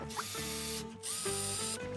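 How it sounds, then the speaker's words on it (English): A small hand drill bores into polymer clay or wood for attaching jewelry findings, giving a close, steady mechanical whir with ratcheting clicks that briefly dips and restarts. "then you're in go mode, so you can go ahead and just drill"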